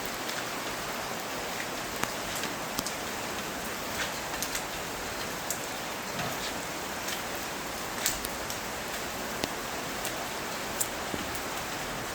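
Steady rain falls on freshly arranged plants: a dense, even patter with scattered louder drips, continuous and close, with no voices.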